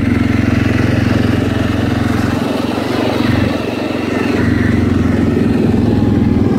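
Engine of a 2019 Cfmoto Cforce 400 4x4 ATV running on a cold day, a steady close mid-pitched hum and throb that dips slightly for a moment before holding level, with no talk over it.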